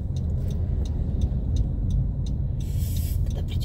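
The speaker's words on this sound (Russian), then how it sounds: "Ой, автобус, ты что вообще, что ли, так несешься?" A bus speeds past on a city road, a loud, steady low rumble of engine and road noise close by, with a brief hiss near the end that sounds like air brakes or air release.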